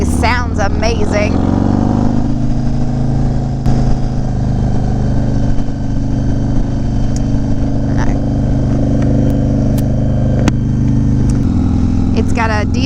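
A deep, rumbling motorcycle engine with a D&D Billet Cat 2-into-1 aftermarket exhaust idles and revs steadily up close in the city, its throaty exhaust note running loud throughout.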